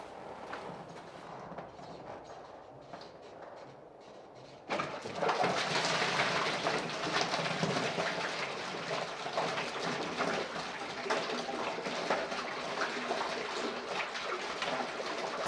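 Coolant drains from a Volvo 240, 740 or 940 engine into a bucket, a steady, close splashing hiss that starts abruptly partway through after a quieter stretch and then runs on continuously.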